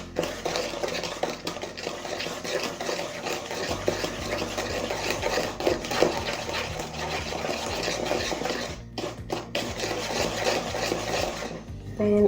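Egg being mixed into blueberry and raspberry cake batter in a bowl, a steady scraping and stirring with soft clinks of utensil against the bowl and a faint hum underneath.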